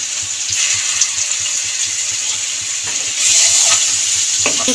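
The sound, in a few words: garlic and onion frying in a pan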